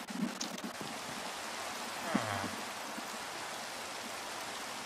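Rain in the Minecraft video game makes a steady, soft hiss that holds evenly throughout. It is fairly faint, and there is a small brief blip partway through.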